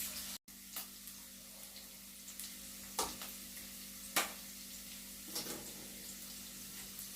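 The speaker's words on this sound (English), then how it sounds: "I'm just going to saute this one 20 seconds before adding my mince" Seasoning sautés in a pan before the mince goes in for Jamaican beef patties, a steady soft sizzle broken by a few scraping stirs of a utensil, with no voices.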